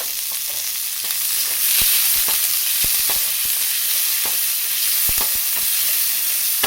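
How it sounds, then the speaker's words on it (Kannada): Finely chopped onions frying in ghee for a paneer ghee roast, a steady bright sizzle with intermittent clicks of stirring, loud and close with no voices. "ಈಗ ಇನ್ನೊಂದು ಸ್ವಲ್ಪ ತುಪ್ಪ ಹಾಕಿ ಈರುಳ್ಳಿ ಸಣ್ಣ ಕಟ್ ಮಾಡೋದು ಹಾಕ್ಕೋತಾ ಇದ್ದೀನಿ"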